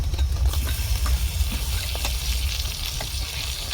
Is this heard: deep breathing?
no